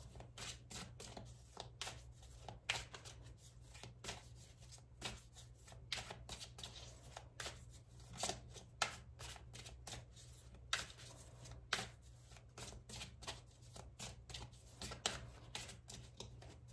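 Tarot cards are shuffled and drawn by hand: a long run of quick, crisp riffles and flicks in an irregular rhythm, close and fairly quiet, with no talking.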